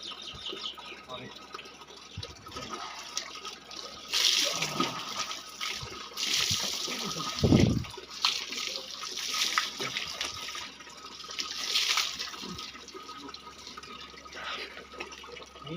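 Splashes and gushes of water poured over a person bathing in a park, in bursts, uneven and close, with voices and background noise between pours.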